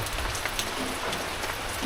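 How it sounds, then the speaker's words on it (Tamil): Heavy rain pouring steadily in a forest in the Western Ghats, a dense, even hiss of drops pattering on leaves and surfaces all around, loud and continuous with no voices. "ஆனால் நல்ல மழை"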